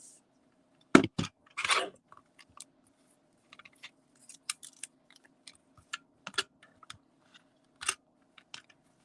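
Scissors snip paper for a handmade Stampin' Up card in a few quick, close cuts, followed by scattered light clicks and rustles of paper being handled, with no talk.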